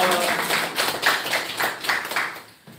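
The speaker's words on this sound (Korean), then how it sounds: "우리 하나님께 영광의 박수 드리겠습니다." A church congregation gives a round of applause, with rhythmic bursts of clapping pulsing steadily for a few seconds before tapering off at the end.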